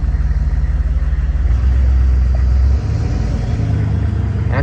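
A 6.5 engine fitted with a low-restriction exhaust idles close by with a loud, steady low rumble that deepens briefly midway before settling back to an even idle.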